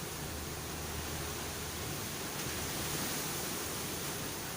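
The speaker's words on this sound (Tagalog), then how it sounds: "Sobrang lakas ng hangin." Strong typhoon wind from Typhoon Rolly roaring steadily near the sea at Marinduque, a loud, continuous broadband rush with no breaks and no voices.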